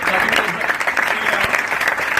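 Continuous loud clapping from an audience at an Amway team meeting, a dense, steady patter filling the room.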